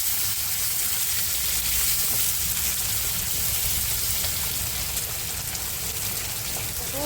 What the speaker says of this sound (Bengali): পেঁয়াজটা একটু লাল লাল করে ভেজে নিন